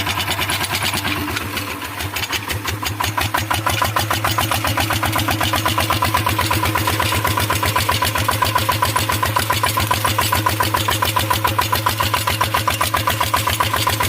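Farm vehicle engine driving through crop ridges, a loud, steady, rapid chugging beat that runs the whole time with a brief dip early on, and no talk.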